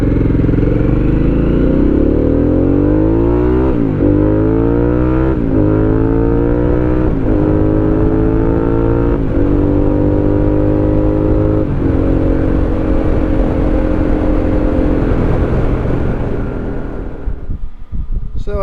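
A Harley-Davidson Pan America fitted with a Vance & Hines exhaust pulls away loud and close, its engine note climbing through several gear changes before easing off at the end.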